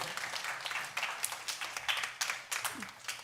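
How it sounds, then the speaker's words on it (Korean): A church congregation at Sunday worship claps together, a soft, even patter of applause lasting a few seconds at a distance. "현초 박수 한번 해줄게요."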